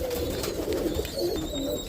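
Roller pigeons coo in a loft, low soft throaty calls close by, repeating through the short stretch over a faint background.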